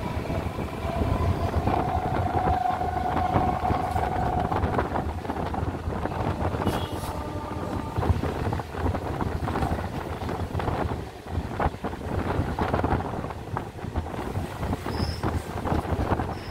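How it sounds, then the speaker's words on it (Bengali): A Baruipara local train on the Sealdah line rumbles along after leaving a station, with continuous rail noise and wind buffeting the microphone throughout. "আমাদের বারুইপাড়া লোকাল ছেড়ে দিয়েছে"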